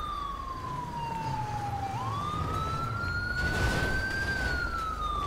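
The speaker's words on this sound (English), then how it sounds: "You can shut your siren off." A police car siren in a video game, one loud continuous wailing tone that sweeps slowly down then rises, over a low engine rumble, with no talk.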